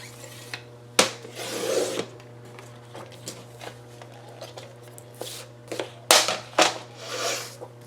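A board cutter trims framing board for a baby hand print family frame, producing several sharp snapping cuts and scraping slides spaced irregularly, close and moderately loud, with no talk.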